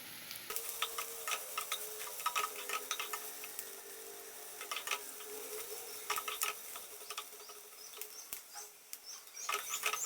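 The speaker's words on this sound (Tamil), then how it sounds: "இப்போ வந்து வெங்காயம் வதங்கிடுச்சு" Chopped onion, ginger and garlic frying in a pan, a steady soft sizzle with scattered light stirring taps and scrapes throughout, close and alone.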